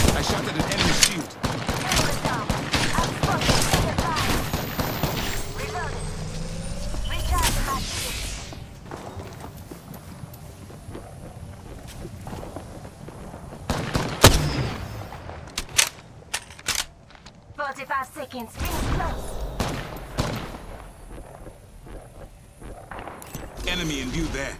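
Bursts of automatic gunfire in an Apex Legends match on PS5, rapid rattling volleys with thuds, whooshes and footsteps, close and loud in places, with a player talking over parts of the action.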